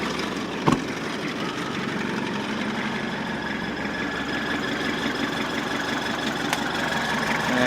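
Toyota engine runs steadily with a continuous mid-to-low rumble and a faint knock, close and fairly loud, with one sharp click near the start and no clear surge in revs.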